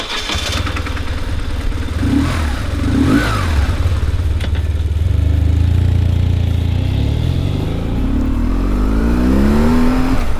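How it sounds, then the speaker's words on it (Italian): BMW R1150GS motorcycle out on a road test, its engine starting and revving close by, pitch sweeping up and down through a few throttle blips before climbing steadily as it pulls away. "adesso facciamo la prova su strada di questa moto"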